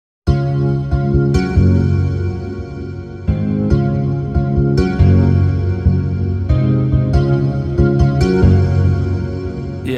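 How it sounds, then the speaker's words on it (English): An unequalized, washy guitar part heavy in low mids fills the mix with dense, overwhelming strummed chords that repeat in a steady pattern for ten seconds, loud and with no voices. "I had this really washy guitar sound that was occupying just way too much space"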